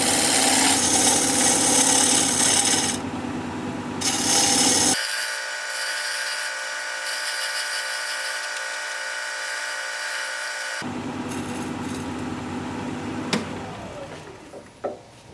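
Black cherry bowl spinning on a wood lathe, a tool scraping and rubbing against the wood in loud bursts, broken by a stretch of quieter whirring, then a few sharp knocks near the end.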